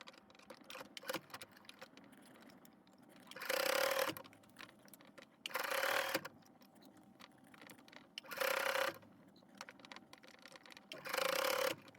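A sewing machine stitching the elastic of a pair of pants runs in four short, steady whirring bursts separated by quiet pauses, with faint handling clicks between them.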